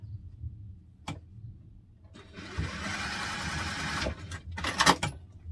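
A sewing machine basting webbing onto fabric for a teddy backpack runs in a steady close whir for about two seconds, with a short separate burst after it and a few isolated clicks before.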